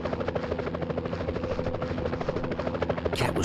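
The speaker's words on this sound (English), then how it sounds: "I saw the chopper dropping off armed robbers on top of the bank." A helicopter's rotor in the video game Spider-Man (2001) chops steadily and loudly throughout, a dense rhythmic thumping with a brief high whoosh near the end.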